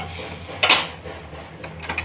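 A metal lid is handled on a cooking pot while fish egg masala fry cooks, giving a sharp clink and then a few lighter metallic taps, close and alone.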